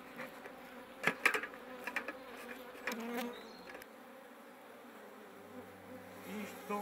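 A low, steady insect hum of many honey bees near a hive, with scattered clicks and brief louder buzzes early on, then a quieter drone.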